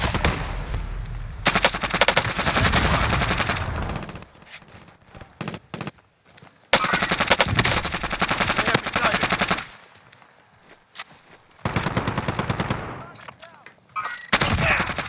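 Repeated automatic gunfire in Call of Duty Warzone comes in loud, sustained bursts that alternate with quieter gaps, and a few footsteps and game radio voices can be heard between them.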